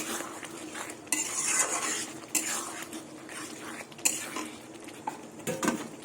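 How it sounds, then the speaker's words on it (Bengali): Boiled freshwater snails stirred in a pan with a spoon, close metallic scraping and clinking strokes in uneven bursts over a faint sizzle. "এবার এটা দিয়ে এই গুগলিটা দিয়ে কিছুক্ষণ কষিয়ে নেবো"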